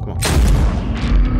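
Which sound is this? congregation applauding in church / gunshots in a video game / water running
gunshots in a video game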